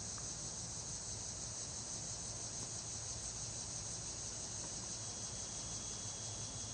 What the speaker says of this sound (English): crickets and the cicadas?